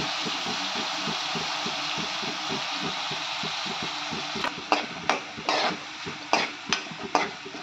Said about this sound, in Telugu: ఏగిని ఉల్లిపాయలు, అల్లం వెల్లిగడ్డ, ఎండు రొయ్యలు బాగా ఏగిని